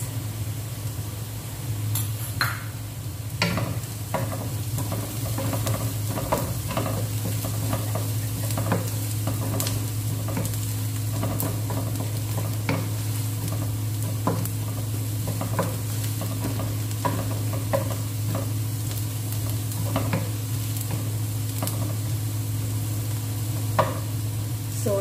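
Onion and garlic fry with chili powder in a pan, a steady loud sizzle running throughout while a utensil stirs and scrapes in frequent light clinks and knocks, close and without talk.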